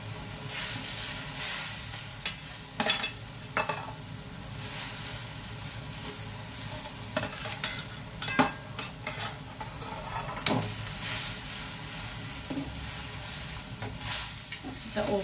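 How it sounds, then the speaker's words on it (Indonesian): Chicken pieces for Central Javanese fried chicken sizzling steadily in a pan, with a scraping stir every so often and some clinks from the utensil, close and alone. "Oke, kita masukkan ayamnya."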